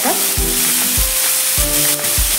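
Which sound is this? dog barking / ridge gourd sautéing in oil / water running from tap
ridge gourd sautéing in oil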